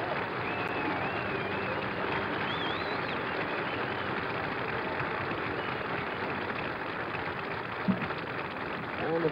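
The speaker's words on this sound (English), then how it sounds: "And here's the cheer for a great guy," A golf gallery at the 1972 US Open cheers and applauds for Lee Trevino at the home hole, a steady, fairly distant wash of clapping and crowd noise under a television commentator's voice, with a faint hum beneath.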